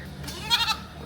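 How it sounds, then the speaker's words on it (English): A goat bleats once, a short wavering cry rising briefly out of steady outdoor background noise on a street in Kerala, India. "Just past more goats."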